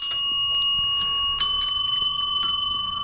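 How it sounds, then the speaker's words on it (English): A handheld bell rings in a radio studio as a cancer patient marks the end of chemotherapy, several bright metallic strikes in quick succession that linger and fade. "Now you want to ring the bell?"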